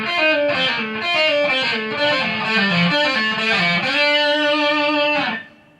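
Distorted electric guitar plays a solo phrase, a run of sustained, vibrato-laden notes with heavy effects, loud and steady alone before cutting off at the end.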